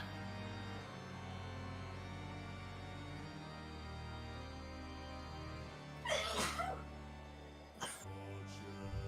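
A loud sneeze bursts out over a steady low hum, followed by a second shorter sneeze and a brief sniff.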